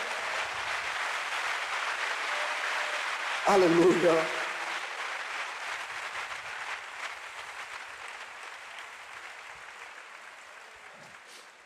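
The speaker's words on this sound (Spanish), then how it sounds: "Un fuerte aplauso al Señor de gloria." A church congregation claps together in strong, sustained applause at a youth service, a dense, even roar of hands that fades slowly, with a voice calling out briefly over it.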